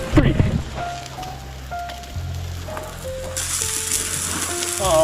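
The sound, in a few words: pork, onions, jalapenos, lentils and rice cooking over a campfire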